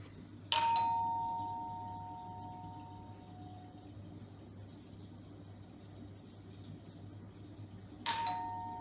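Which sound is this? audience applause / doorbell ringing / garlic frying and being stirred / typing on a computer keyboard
doorbell ringing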